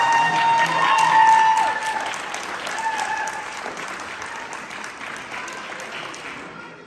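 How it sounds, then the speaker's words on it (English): Loud audience applause at a retirement celebration, peaking early then fading gradually into lighter clapping across the room. "That was a louder applause than I was expecting"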